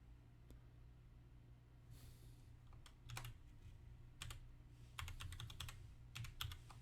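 Computer keyboard keys tapped to enter a password, short clicks in irregular bursts over a low steady background hum, close and moderately faint.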